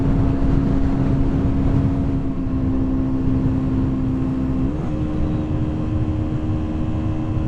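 A motorbike engine climbing a hill, dropping down two gears: a loud, continuous engine drone with a steady hum that shifts pitch near the end as the gear changes, close, with no talk.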